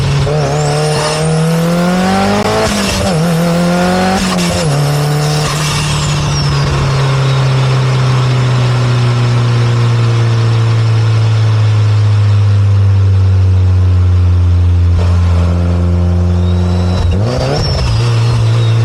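A 700-horsepower Mitsubishi Lancer revs hard and accelerates on the street, its engine note rising and falling through several gear changes before settling into a loud, steady drone, then surging again near the end.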